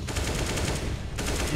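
Rapid automatic gunfire from the video game CS:GO, a dense, continuous burst that holds loud throughout, briefly dipping before resuming.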